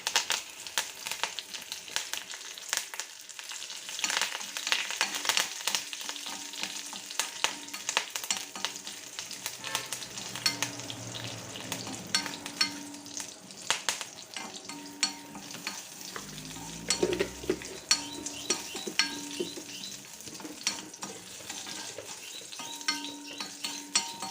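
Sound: curry leaves frying for mango pulissery tempering

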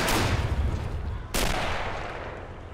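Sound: gunfire in video game Men of War Assault Squad 2

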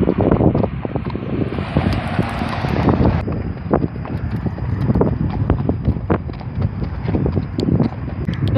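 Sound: wind blowing outdoors

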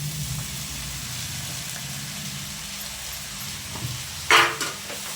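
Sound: bitter gourd frying with tomato in a pan

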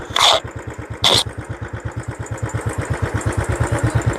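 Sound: motorcycle engine idling

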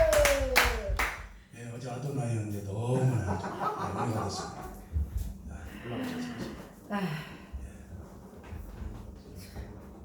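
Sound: audience applause welcoming a speaker

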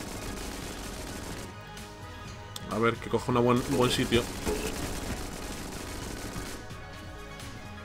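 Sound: boss gunfire in video game Enter the Gungeon

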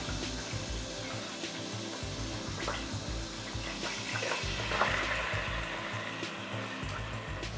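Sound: onions frying and sizzling in hot oil

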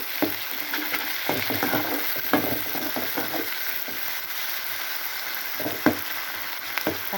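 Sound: tomatoes sautéing in a pan

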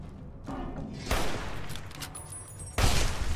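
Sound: gunshots from the video game Fallout New Vegas

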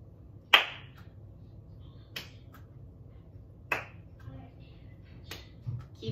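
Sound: hands clapping between tossing and catching a ball

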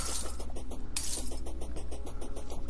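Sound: glass breaking in the video game Terraria

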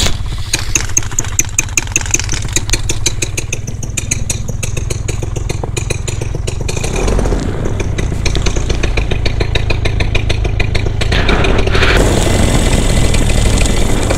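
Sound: paramotor flexwing ultralight engine starting and running

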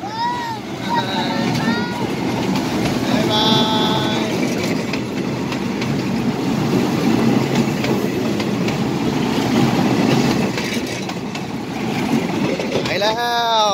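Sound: train passing Chom Thong station without stopping

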